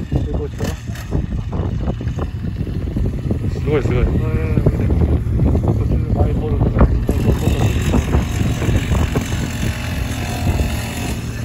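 A miniature motorcycle engine running with a buzzing, sputtering drone, close by, with excited voices talking over it and wind buffeting the microphone.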